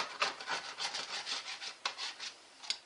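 Scraping stuck-on roasting residue from the inside of a coated roasting tray after cooking a chicken dinner: a steady series of close, rasping rubbing strokes in quick rhythm, with no talking.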